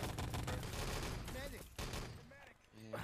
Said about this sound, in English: We have Drago trying to make music with the MG42 on the bridge.